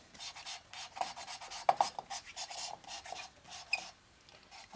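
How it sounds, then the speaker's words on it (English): Engine valves from a rebuilt Harley 650 single Sportster are lapped with a lapping stick, giving close, rhythmic gritty rubbing strokes with small clicks and no talking. "This lapping stick sucks."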